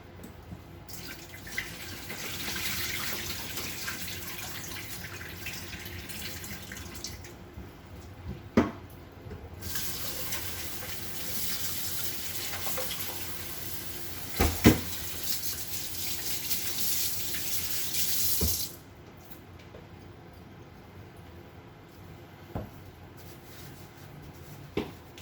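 Tap water runs steadily into a kitchen sink while soup is being prepared, a constant hiss that swells louder in the middle, with a few sharp knocks and clatters and a quieter trickle at the end.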